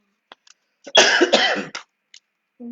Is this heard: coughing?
yes